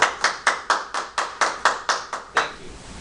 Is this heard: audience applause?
yes